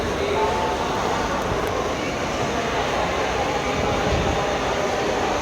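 Busy platform at Howrah railway station, with a steady dense wash of crowd noise and train rumble filling the whole stretch, loud and continuous with no distinct individual events.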